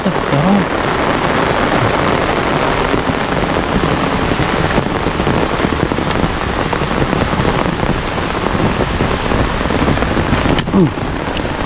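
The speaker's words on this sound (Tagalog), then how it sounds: "Malakas po yung ulan." Heavy rain pours steadily throughout, a dense continuous hiss of drops close by with no pauses.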